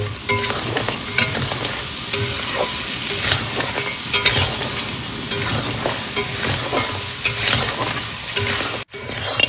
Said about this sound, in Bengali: আর দেবো গোলমরিচ গুঁড়ো, একটু ধনিয়া পাউডার। ভালো করে কষাবো।